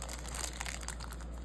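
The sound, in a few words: scissors cutting open card pack wrapper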